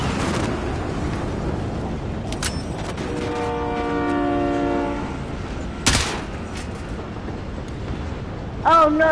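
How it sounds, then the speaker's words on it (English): Train rolling in during a multiplayer shooter match in plunder mode, with a sustained layered horn rising over engine rumble, sharp gunfire-like bursts in between, and players talking over it. "Oh no, there's a train coming."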